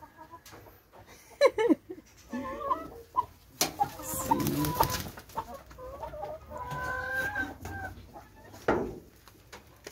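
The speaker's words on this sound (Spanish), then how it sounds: "Se me salieron unas gallinas." Loose hens on a small farm cluck in scattered bursts, some close and sharp, others softer, over outdoor background noise, with one brief spoken word.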